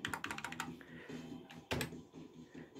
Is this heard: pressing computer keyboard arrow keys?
yes